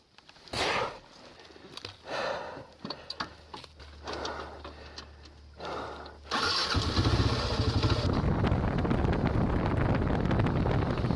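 A flooded motorcycle engine is cranked at a roadside lookout, with a few short ticking and starter bursts before it catches and settles into a loud, steady running rumble, with wind noise on the microphone.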